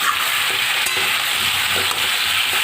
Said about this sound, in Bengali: আর এখন আলুগুলো ভেজে নিচ্ছি।